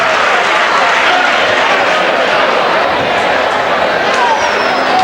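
Crowd at a 2006 girls high school basketball game between Odebolt Arthur and IKM cheers and applauds in a loud, continuous roar of clapping and voices filling the gym.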